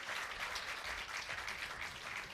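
An audience at a women's skeet shooting competition claps in steady, sustained applause, heard at a distance and fairly faint.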